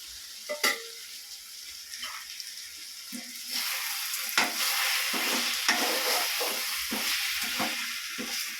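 Prawns hit a hot pan with ginger, garlic and rock salt and are stirred, a rising sizzle and frying hiss with scraping stirs, close and fairly loud after a quieter start.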